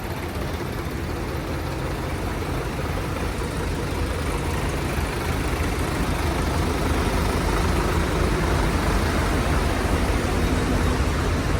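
A tractor fitted for spraying work runs steadily at close range, a loud, continuous low diesel drone that holds the same level throughout with no pauses and no voices.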